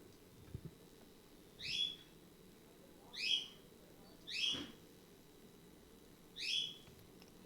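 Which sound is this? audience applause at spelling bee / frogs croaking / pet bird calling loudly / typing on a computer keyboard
pet bird calling loudly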